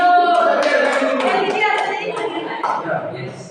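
A school class performs a spirit clapping routine, rhythmic hand claps running under a teacher's voice, with children's voices mixed in.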